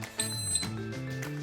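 An NG Teco SD10 smoke detector gives two short, high electronic beeps when its test button is pressed, with lower tonal sound running underneath.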